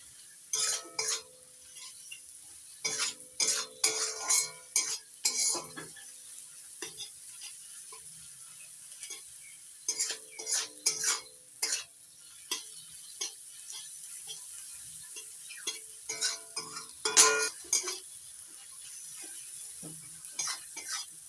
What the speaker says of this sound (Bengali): গ্যাসের ফ্লেমটা মিডিয়াম রেখে মশলাটা ভালো করে কষিয়ে নিচ্ছি।